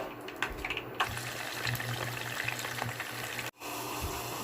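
Potatoes frying in hot cooking oil with squash, a steady close-up sizzle with crackling pops that briefly drops out for a moment before resuming.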